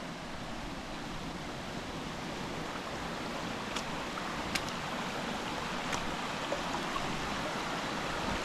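Along the West Prong Trail, a mountain stream rushes steadily over rocks, a continuous close wash of water with no voices, broken only by a few faint clicks.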